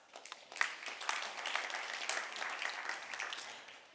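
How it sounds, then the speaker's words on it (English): A conference audience claps in applause after a pitch presentation at an energy technology event, a few seconds of moderately faint scattered clapping that swells and then thins out. "Big round of applause."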